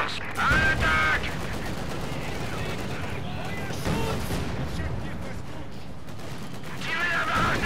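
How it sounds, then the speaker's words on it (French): Small arms gunfire in Company of Heroes 2 crackles steadily in the background, with a few louder volleys, while voices speak over the battle. "On essuie les tirs d'armes légères."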